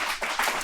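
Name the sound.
live audience clapping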